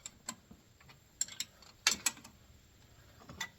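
Quick ratcheting clicks of a hand wrench tightening a bolt on a power steering pump on a Squarebody Chevy, a few short bursts of metallic ticking with pauses between, close and fairly quiet.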